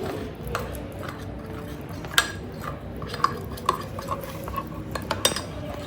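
A utensil stirs mug cake batter inside a mug, giving repeated light clinks and scrapes against the ceramic in an irregular rhythm, close and moderately quiet, with no talking.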